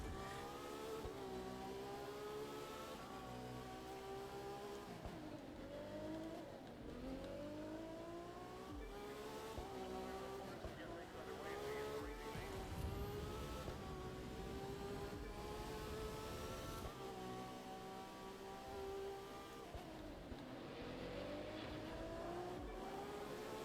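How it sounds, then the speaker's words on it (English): Race cars in the video game The Crew 2 rev and whine continuously, engine notes sweeping up and down in pitch as gears shift, with overlapping roaring passes filling the whole stretch at a steady level. "That sound like a separate race is going on."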